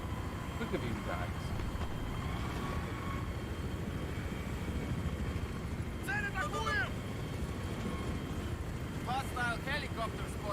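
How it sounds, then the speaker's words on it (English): An enemy helicopter flies in the Xbox 360 game Battlefield 3, a steady loud broadband engine roar filling the whole stretch while a voice speaks briefly over it. "Hostile helicopter spotted."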